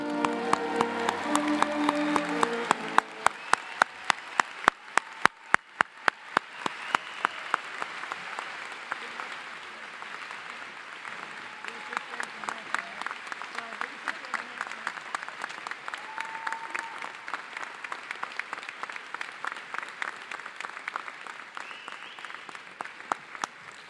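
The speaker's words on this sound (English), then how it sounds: "let's give them a round of applause" Long, steady round of applause from a graduation audience for the class of 2021, dense clapping that holds for the whole stretch with sharp individual claps standing out, no talk over it.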